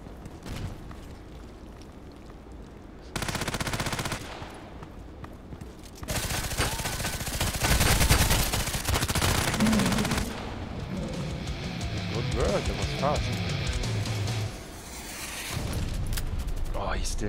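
Gunfire in the sniper video game ADXsniper, rough sustained bursts of shots and booms in several loud blocks, with a player talking over parts of it.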